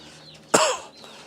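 A live chicken, seasoned with a herbal jamu of turmeric, temulawak and ginger, gives one loud, short squawking cluck close by against a quiet background.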